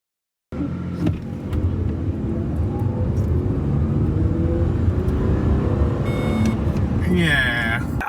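An old Ford car with a 4-speed gearbox accelerates hard in a drag race, its engine drone loud and steady from start to finish, with voices faintly underneath.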